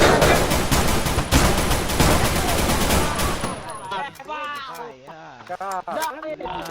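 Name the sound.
gunfire in video game MTA San Andreas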